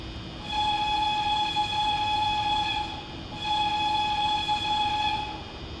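Train horn in the video game Train Sim World 3, on an earlier version of the 101 train: two sustained loud blasts, each roughly two and a half seconds long, separated by a short break.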